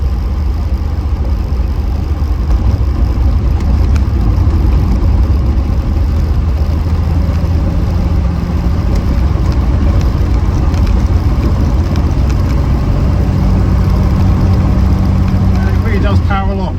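A Reliant Scimitar GTE SE5a engine runs with a continuous low, even drone at steady revs as a voice talks over it.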